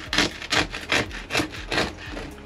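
A knife saws through a crusty loaf of bread baked in an air fryer, five rough rasping strokes in a steady back-and-forth rhythm, close and fairly loud with no talking.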